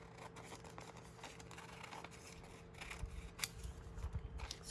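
Scissors snipping across a lace doily, quiet close crisp cuts that grow busier and louder toward the end, with faint background hiss.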